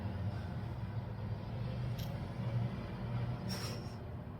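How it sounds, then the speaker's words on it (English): Steady low rumble of scooters and trucks passing outside, a continuous distant traffic drone with a couple of brief higher squeals or brake hisses. "these scooters, man, they're so loud"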